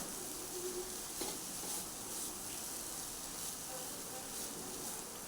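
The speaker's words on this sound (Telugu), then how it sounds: "దీన్ని బాగా రోస్ట్ చేయాలి." Grated coconut roasting in a pan for coconut laddu gives off a steady, soft sizzle with faint stirring scrapes, continuous and low in level throughout.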